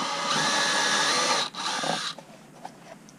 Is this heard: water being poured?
no